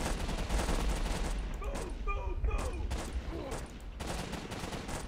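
Rapid machine gun bursts and scattered gunfire crackle through a World War II battle in the game Warfare 1944, dense and continuous over a rumbling battlefield background.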